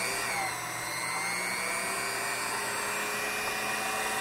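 A locksmith's key cutting machine cuts a high security key with a continuous high-pitched motor whine and grinding, steady and close, with no talk.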